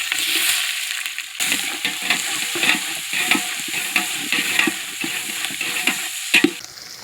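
Chopped onions and cinnamon frying in hot oil for a murrel fish white biryani, giving a loud continuous sizzle broken by repeated scraping stirs of the spoon against the pan, with no talk.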